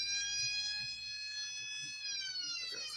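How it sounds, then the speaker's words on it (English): Italian police car siren from the BeamNG.drive driving game, a loud steady electronic wail with stacked tones that shift pitch partway through, sounding continuously and close with no talk. "Siren. This is like an Italian police car."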